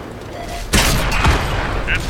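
Artillery shells strike near a Pz.Kpfw. V/IV tank in a video game, a sudden loud blast followed by a rumbling burst and scattered crackling impacts.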